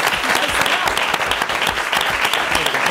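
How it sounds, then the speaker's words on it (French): Loud, dense applause from a crowd at a solidarity concert presentation, honouring association members, continuous clapping with a faint murmur of voices underneath. "On peut les applaudir."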